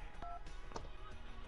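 Telephone number dialed in GTA: Vice City: a short series of electronic keypad tones, two clear beeps set against steady game ambience with no talking.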